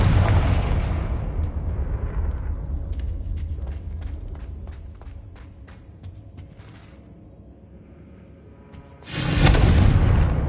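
A Confringo blasting curse detonates in Hogwarts Legacy, opening with a loud boom that rumbles away into a quieter room filled with faint clicks and ticks. A second sharp, loud burst erupts near the end.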